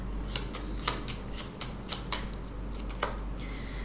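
Tarot cards being shuffled and drawn, a quiet series of quick crisp riffling flicks and snaps at irregular intervals, close up with no talking.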